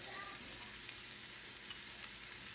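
Butter sizzling in a hot pan while preparing a bison casserole, a steady, even hiss that holds for the whole moment with no talking.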